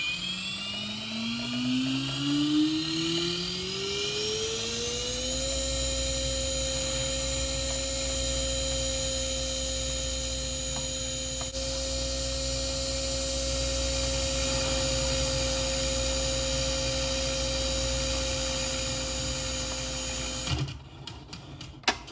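An RC helicopter in a flight simulator game spools up with a rising electronic whine over several seconds, then holds a steady buzzing drone before cutting off abruptly near the end.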